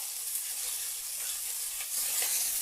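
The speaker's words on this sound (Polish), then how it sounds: "jak widzicie burger mi się świetnie smaży" An Oreo burger patty fries in a pan with a steady, close sizzle and crackle, growing slightly louder near the end, with no talking.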